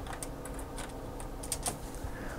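Quick bursts of keystrokes on a computer keyboard, a short run of close, crisp clicks with brief pauses between them.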